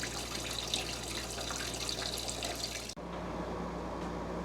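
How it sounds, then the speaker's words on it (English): Old black gasoline draining from a 1991 Mastercraft riding mower, a continuous close liquid trickle and splash that runs steadily, broken by one brief dip before the flow continues more softly. "That is just black gas. And lots of it. We better let that drain a little bit."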